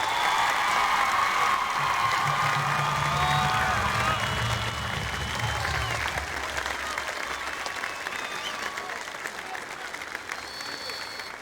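A stadium crowd at a Harlingen versus Harlingen South high school football game applauds students, loud sustained clapping and cheering throughout, with a low announcer-like voice briefly underneath early on.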